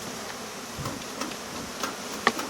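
Honey bees swarm around a hive box in Denmark, a steady close buzzing hum with a few sharper passes and light ticks, no voices.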